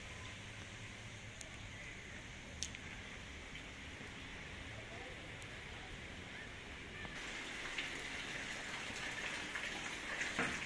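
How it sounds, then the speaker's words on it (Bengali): Soft, steady rain patters continuously at a distance, growing slightly heavier toward the end, with an occasional faint tap. "আবার বৃষ্টি এসে পড়তেছে"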